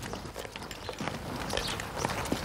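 A thin horse pulling a wooden plough over barren farmland among Rarámuri farmers in Mexico plods along with soft hoof clip-clops, buried in a steady, dense outdoor noise bed.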